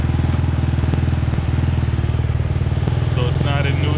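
Yamaha Raptor 250 ATV engine idling steadily with a dense low putter, close and loud, as the transmission is clicked into gear; faint higher tones creep in near the end.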